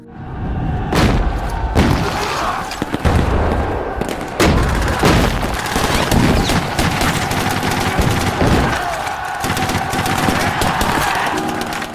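War film battle from Taegukgi (2004): dense bursts of automatic gunfire from a bunker, scattered single shots and heavy booming explosions, loud and continuous throughout.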